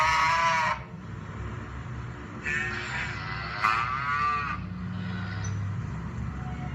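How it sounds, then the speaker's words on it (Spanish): A cow mooing, several drawn-out lowing calls separated by short pauses, moderately loud over faint background hiss. "Vamos a escuchar primero cómo hace la vaca."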